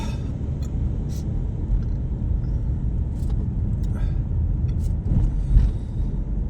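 Road traffic streams past near the airport in Kuwait, a dense steady roar of passing vehicles with a few brief higher transient noises on top and faint voices mixed in.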